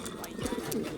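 Pigeons coo close by, a short burst of soft, throaty rolling calls.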